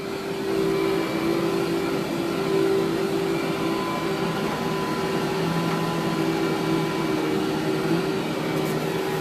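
A vacuum cleaner with its beater bar spinning runs continuously, a loud, steady motor drone with a constant whine and brushy rumble that barely changes throughout.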